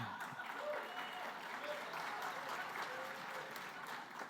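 Applause fills an awards ceremony hall at a school conference, a continuous, even patter of many hands heard at a moderate distance, fairly quiet overall.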